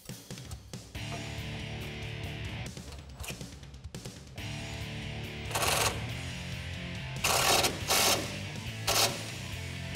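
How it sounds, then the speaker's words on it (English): A ratchet or wrench tightens bolts fastening a black winch-mount grille guard on a 2019-2021 Chevrolet Silverado 1500 HD, close mechanical clicking in bursts with several louder rapid ratcheting runs near the end. "I'm gonna go ahead and tighten those down now"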